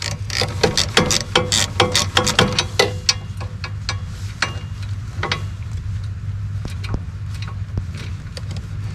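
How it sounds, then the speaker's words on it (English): A ratchet wrench turns out a bolt on a bracket of a Kubota LX2610 tractor with fast, close metallic clicking at first, then slower scattered clicks over a low steady hum. "I'm going to take the bolt right out."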